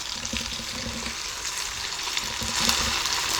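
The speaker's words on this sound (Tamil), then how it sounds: "எண்ணெய் காஞ்ச உடனே நல்லா டீப் ஃப்ரை ஆகட்டும்." Battered green cauliflower deep frying in hot oil over a medium flame, a steady close hiss and sizzle with faint crackles, continuous throughout and a little louder near the end, no voices.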